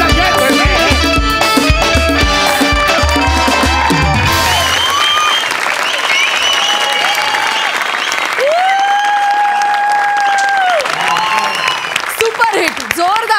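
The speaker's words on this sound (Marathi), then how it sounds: "जोरदार टाळ्या" A television comedy show's studio audience breaks into loud, dense applause for about four seconds, then the clapping fades into sustained musical and vocal tones.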